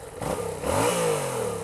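A 2014 Yamaha MT-07 motorcycle on its stock exhaust revs up close, the engine note climbing in pitch and then holding a steady, loud drone.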